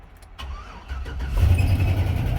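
A car with a history of cranking but failing to start turns over briefly, then catches and settles into a low idle, recorded close with no talk.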